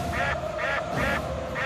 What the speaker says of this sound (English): Ducks all over the pond.